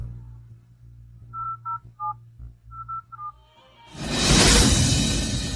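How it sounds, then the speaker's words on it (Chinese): A phone is dialled with a rapid run of separate touch-tone beeps over a low hum, then a loud broadband whoosh cuts in at the end; no one speaks. "请允许我打个电话。"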